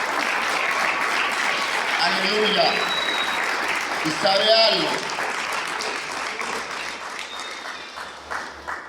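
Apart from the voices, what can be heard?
church congregation applauding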